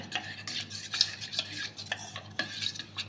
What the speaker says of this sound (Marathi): मी आता हे चांगलं मिक्स करून घेणार आहे